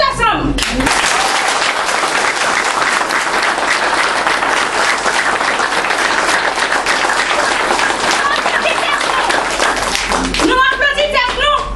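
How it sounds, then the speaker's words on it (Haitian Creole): A large crowd claps together in sustained, loud applause at a 2012 gathering, dense and continuous for most of the stretch before tapering off near the end. "nous allons applaudir tête nous ensemble, nous tous ensemble"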